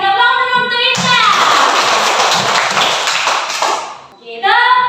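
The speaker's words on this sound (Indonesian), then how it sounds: "Tepuk tangan dulu untuk Indah." Children in a primary school classroom break into a burst of hand clapping lasting about three seconds, dense and fairly loud, with an adult voice speaking just before and after.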